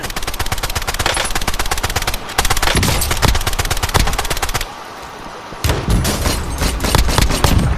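Gunfire in the video game Warzone, rapid automatic bursts of machine-gun shots, loud and close, broken by a brief lull before more firing resumes.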